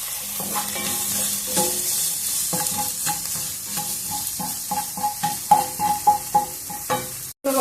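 Egg fried rice stirred in a hot pan with peas, a steady sizzle broken by a run of scraping, clattering spatula strokes that grow louder toward the end, with no voices.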